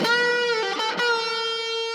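A sustained, singing electric guitar phrase with a quick bend and slide before settling on a long held note, played alone.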